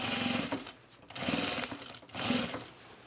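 A sewing machine topstitches a divided fabric basket in three steady bursts of rapid stitching, each separated by a brief pause, close and clear with no voices.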